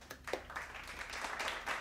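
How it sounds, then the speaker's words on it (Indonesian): A small classroom group in a biology microteaching session claps briefly and faintly for a student team after their presentation, a few scattered hand claps without any talk. "Silakan berikan tepuk tangan untuk kelompok 2."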